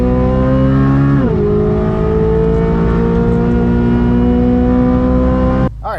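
A Chevrolet C8 Corvette Z06 launches from a standstill for a 0-60 run, its engine loud and close. The revs climb, dip briefly at a gear change, then keep rising steadily until the sound cuts off.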